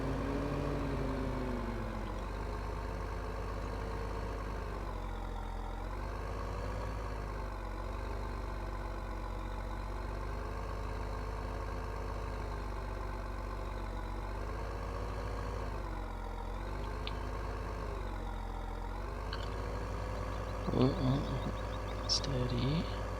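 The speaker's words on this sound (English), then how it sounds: "I do like the noise of this tractor." A steady, low tractor engine drone in Farming Simulator 15 runs throughout, idling and revving gently, with a few brief clicks and knocks near the end.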